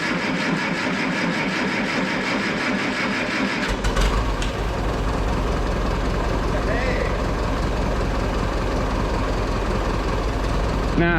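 Super 44 tractor engine catching and settling into a steady, loud running drone after a few seconds of quieter mechanical noise, close by, with voices talking over it.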